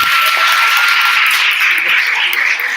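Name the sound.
audience applause for panelists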